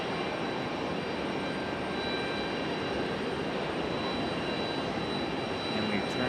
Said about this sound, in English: A319 departure.